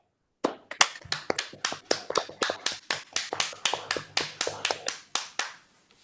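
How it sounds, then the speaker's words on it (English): A single person claps alone near the microphone after an online mathematics lecture, about twenty crisp, evenly spaced claps in a steady rhythm with silence between them. "Can we all please unmute ourselves and give the speaker a round of applause?"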